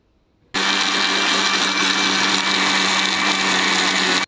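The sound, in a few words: mixer grinder blending onions, green chillies, tomatoes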